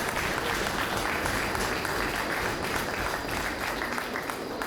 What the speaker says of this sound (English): I think we should give these two great people a round of applause